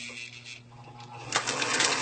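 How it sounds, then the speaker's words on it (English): A sewing machine back stitching along an invisible zipper, a steady mechanical whir with faint rhythmic clatter that grows louder and busier in the second half, with no voices. "start by back stitching 2 stitches, and then I'll stitch normally"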